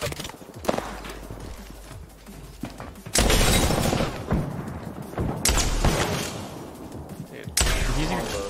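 Kraber sniper rifle fire in Apex Legends, three heavy booming shots spaced a few seconds apart amid busy combat noise, with people talking in between.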